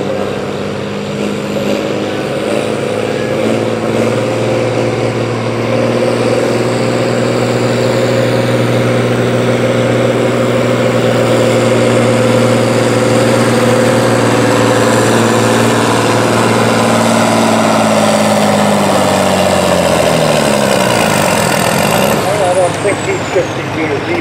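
A Case 4620 pulling tractor idles at a tractor and truck pull in Kempton, PA. Its loud, steady engine drone holds near and constant, then shifts in pitch toward the end. An announcer talks over it.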